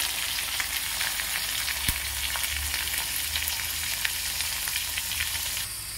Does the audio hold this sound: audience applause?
no